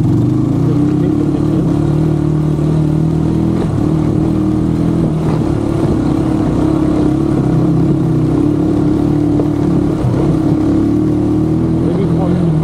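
An off-road vehicle grinds through the woods at Kakkabe, its engine a loud, steady low rumble that runs without a break for the whole stretch, close to the mic.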